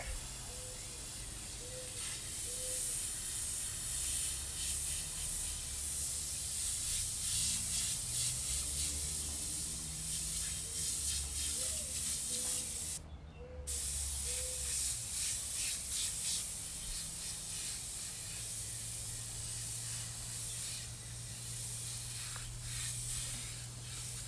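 An airbrush sprays paint outdoors in a yard while a tiki head is shaded, giving a continuous soft hiss with brief gaps and faint background sounds.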